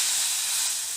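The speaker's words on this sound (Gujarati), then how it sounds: "મમ્મીએ તેલ મૂકી અને રાઈ જીરું નાખ્યું" Mustard seeds and cumin sizzling in hot oil for a Gujarati gathiya curry tempering, a loud steady frying hiss filling the moment without talk.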